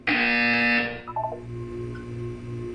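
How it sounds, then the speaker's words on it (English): In a Portal 2 test chamber, a loud electronic buzzer tone sounds for about a second and then cuts off, followed by a few short descending beeps over a low steady hum. "You will hear a buzzer."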